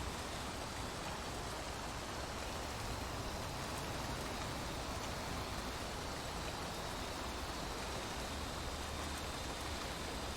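Simulated rain in the X-Plane 11 flight simulator with the ALES 2.0 wet ramps add-on, a steady, dense hiss of falling rain filling the whole clip at an even, moderate level with no voices.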